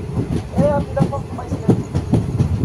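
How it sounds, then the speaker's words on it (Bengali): An intercity express train running from Guwahati toward Ledo rolls into Jagi Road station at night, with rhythmic wheel clatter and rumbling carriage noise close by and a faint squeal. "এখন আমরা জাগি রোড স্টেশনে ঢুকছি"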